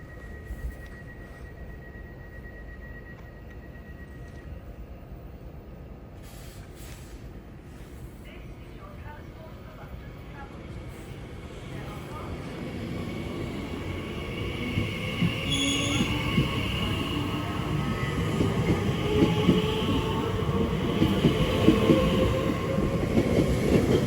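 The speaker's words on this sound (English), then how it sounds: "the 1546 Elizabeth line service from Shenfield to Heathrow Terminal 5" Elizabeth line Class 345 electric train passing West Ealing station on the Great Western main line, building from a distant hum to a loud, close rumble with squealing wheels over roughly twenty seconds.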